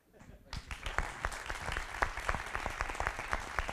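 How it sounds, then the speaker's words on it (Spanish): A small audience claps for a guest named Agustín at a talk, starting suddenly and continuing as steady, close applause of many hands to the end. "Y un aplauso para Agustín."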